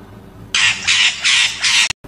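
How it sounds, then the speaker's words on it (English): A parrot squawks four times in quick, harsh, evenly spaced bursts, loud and close, with nothing else around it. "P for parrot."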